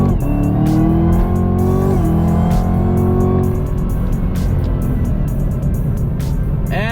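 A Camaro ZL1 with a 10-speed gearbox accelerates hard and loud, its engine note climbing and dropping as paddle shifts fall at about two and three and a half seconds, then settling into a rougher roar with faint tire noise.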